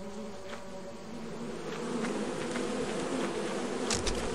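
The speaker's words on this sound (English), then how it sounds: "Bees!" A swarm of bees buzzing in the video game Lethal Company, a continuous droning hum that is steady and fairly close, with no talking over it.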